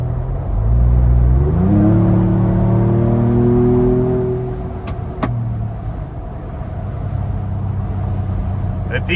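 A 2021-2022 Ford Bronco fitted with a catback exhaust, driving, its engine tone climbing as it accelerates and then settling into a steady, close cruising hum mixed with road and wind noise.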